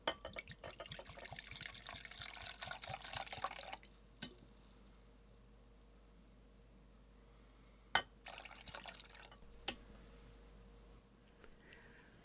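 Strong acetic acid vinegar is poured into a lab beaker, giving a close, steady trickling and dripping of liquid for a few seconds. Afterward come quiet pauses with a few isolated clinks and taps.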